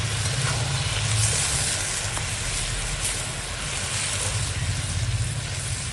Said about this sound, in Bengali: এইবার জল দেবো।